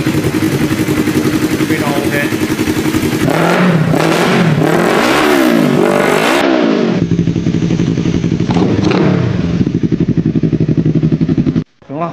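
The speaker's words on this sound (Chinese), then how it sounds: "现在油箱装完了，准备初步的着车试车。" A rebuilt high-compression Yamaha R3 motorcycle with a titanium racing exhaust starts up close by. It settles into a steady idle, then revs hard in repeated rising and falling bursts before dropping back to a loud, even idle.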